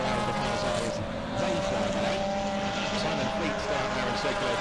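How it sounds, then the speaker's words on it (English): Race cars roar around the Cadwell Park circuit in a loud, continuous, droning engine howl that holds steady and close, with commentary running over it. "I'm struggling to hear on my end purely because of how loud the cars are as they fly now"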